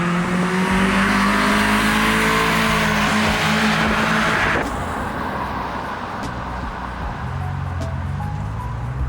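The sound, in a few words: old car engine running and revving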